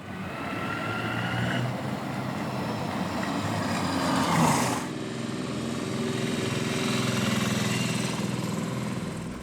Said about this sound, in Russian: Как только батарея покажет разряд, моторчик зазвучит, его заряжая.